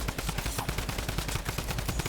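A drum gun in Fortnite fires continuously in a rapid, steady burst of loud close-range shots lasting about two seconds, with no talk over it.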